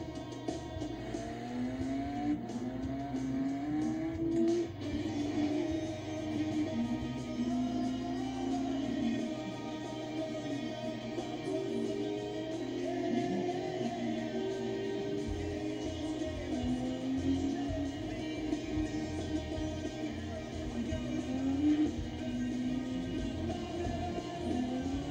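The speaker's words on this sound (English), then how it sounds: "The Porsche Cayenne. Enthusiast driven." A Porsche Cayenne driving a winding course of straightaways and hairpins, its engine rising and falling repeatedly through accelerations and gear changes, loud and close throughout with no talking.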